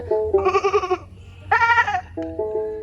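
Three wavering bleats in a row, a human voice imitating a goat, each one shaky and nasal with short pauses between.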